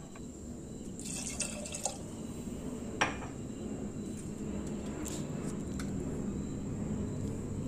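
Water runs and trickles over peas and sliced potatoes in a cooker. A steady, soft pouring wash continues throughout, with a few light clinks of a vessel. No speech is heard.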